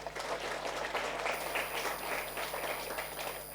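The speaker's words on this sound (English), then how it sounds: "Would request a round of applause for the Parishad and its team." Applause from an audience at a lecture event fills the room as a dense, steady wash of clapping that holds at an even level throughout, with no voices standing out.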